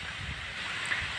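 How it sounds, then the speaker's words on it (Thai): Cold, dry winter wind gusting across an open watermelon field, a steady broadband rush buffeting the microphone for about a second with no voices. "เสียงลมครับ"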